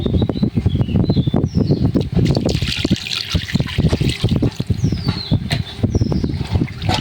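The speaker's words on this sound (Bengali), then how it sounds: "আগে থেকে ম্যারিনেট করা মাংসটা এখন ধুয়ে নেব" Running water splashes and trickles steadily as marinated poultry meat is washed, a loud, continuous wet rush with bursts of dribbling close by and no talk.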